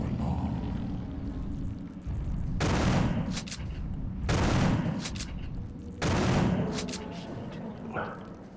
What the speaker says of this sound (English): Just notice that the shotgun blasts actually throw out 3 shots instead of one when you shoot with it.